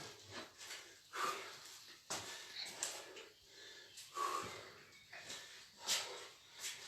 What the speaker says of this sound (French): Soufflez à fond.